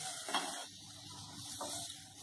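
Kashmiri chili, dry chili, cumin and coriander powders frying in a pan for Mughlai paratha, a soft, quiet sizzle and hiss with a few stirring scrapes over a short stretch.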